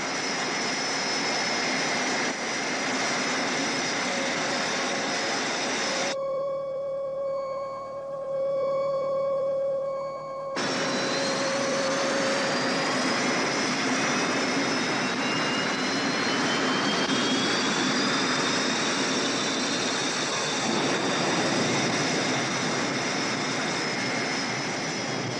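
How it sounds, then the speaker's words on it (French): A spaceship departs in a sci-fi series, a loud sustained jet-like engine roar that cuts out briefly to a quieter tonal hum, then returns, building slightly as it pulls away. "Le vaisseau s'en va! Il emmène le rocher avec lui."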